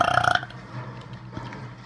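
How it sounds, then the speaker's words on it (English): A short, loud, rumbling burp at close range, fading into quiet room and game background noise during a Fortnite Battle Royale session. "Best of 2020 burps."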